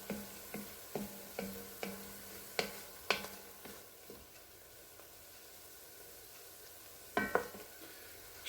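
Onions and garlic caramelizing in a pan for red chili give a faint, steady sizzle, with rhythmic ticking taps of a utensil early on and a brief cluster of scraping stirs near the end.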